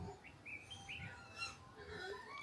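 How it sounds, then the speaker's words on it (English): A caged white-rumped shama gives faint, thin chirps and short whistled notes against a soft background hum, with no talk over it. "This is the bird. We call it Murai Batu."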